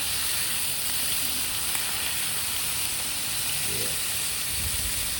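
Smash burger patties sizzle on a 28-inch Blackstone griddle, a steady, close, fairly quiet hiss of frying fat with faint scraping as they are flipped.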